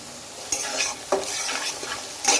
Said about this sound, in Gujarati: હવે આને આપણે સારી રીતના મસાલાને એક બે મિનિટ સુધી શેકી લઈએ